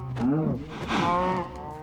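Two drawn-out cow moos in Minecraft follow one another, fairly close and clear, with no talking.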